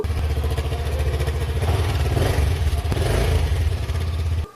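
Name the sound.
motorcycle engine running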